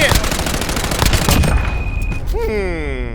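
Dense, rapid video-game gunfire from Call of Duty Warzone, with a grenade blast, crackles close and loud, trailing into ringing whistles and rising tones near the end.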